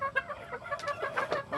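Cobra chickens and roosters on a Filipino poultry yard cluck in quick, irregular bursts, several birds close by and moderately loud, with no talking.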